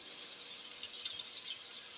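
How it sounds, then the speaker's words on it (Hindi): Water pours into a cooking pot of spiced masala for kadhi pakora, a steady soft hissing splash that runs evenly throughout without any talking. "थोड़ा सा हम डाल देंगे पानी"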